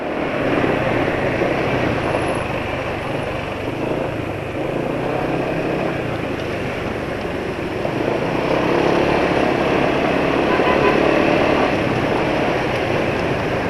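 Car engine with a rough, coarse running note while driving below 50 km/h after an oil change to Evalube Super Transco, a steady broadband drone heard from inside the cabin, continuous and fairly loud with no talking.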